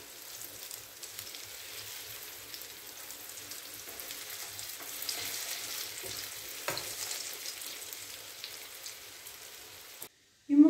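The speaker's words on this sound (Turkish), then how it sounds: "Dilimlerini kızarttım." Steady sizzling of slices frying in a pan, a continuous crackling hiss that runs on and then cuts off abruptly near the end.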